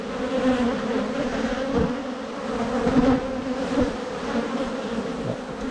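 Honey bees hum in a dense, steady swarm around an open beehive during a honey harvest, a loud continuous buzz close by with no talk.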